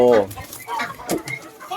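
White-bodied, black-tailed bantam chickens at a Khon Kaen breeder cluck in short bursts, close and loud, mixed with someone talking over them.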